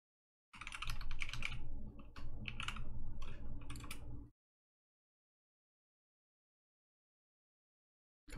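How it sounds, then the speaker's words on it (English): Rapid clattering keystrokes on a computer keyboard for a few seconds, close and clear, then silence. "Oh, I'm typing it beautifully."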